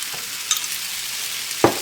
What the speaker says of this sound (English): Get a little stirred around in there.